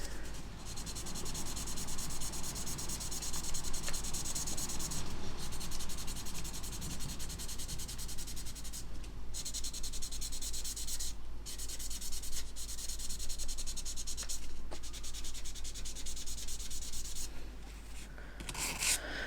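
800 grit sandpaper sands a plastic model kit in steady, close back-and-forth rubbing strokes that last throughout, with a few brief pauses and no talk.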